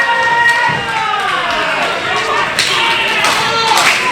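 A wrestling crowd at a 1CW show murmurs and cheers in a loud indoor hall, with scattered thuds from the ring. A commentator talks steadily over the noise.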